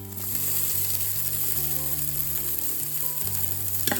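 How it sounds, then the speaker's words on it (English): Chopped onions sauté with cooked ginger and garlic for a winter tomato soup, giving a steady, loud sizzle with a low continuous hum, no talking. "I will saute the onion little bit with them"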